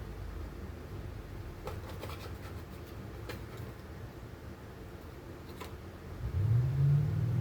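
A chainsaw engine fitted with a Chinese carburetor runs at a steady, rough drone close by, then revs up louder for the final second or so.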